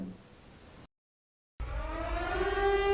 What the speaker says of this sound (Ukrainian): що робити у разі звучання незвичної сирени